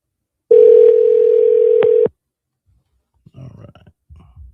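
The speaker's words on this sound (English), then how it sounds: "Call was disconnected." A telephone tone sounds after a call is disconnected: one steady, loud tone lasts about a second and a half and then stops abruptly. Faint, brief rustling and low voices follow in the quiet.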